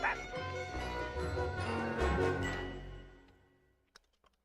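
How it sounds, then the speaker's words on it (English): A cartoon dog's barks and yips ring out loud and close over a busy animated soundtrack, then fade away, leaving a few faint clicks at the end. "Would somebody please shut that dog up? It's been barking all night long."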